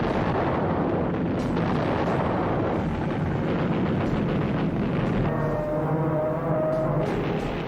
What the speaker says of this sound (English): But then she took a bomb which penetrated 4 decks before exploding.